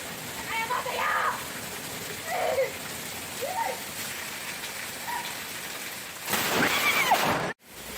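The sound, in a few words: rain falling outside in a yard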